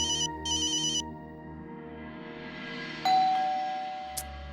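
A telephone ringtone in a Hindi television drama sounds in two short, bright bursts at the start, then gives way to a swelling musical tone and a ding.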